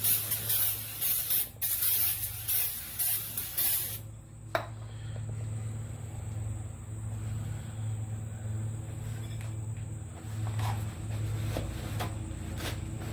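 Brake cleaner hisses from an aerosol can in a loud, continuous burst onto new brake and suspension parts for a 2005 Ford F150, then stops, leaving a quieter driveway backdrop with faint clicks.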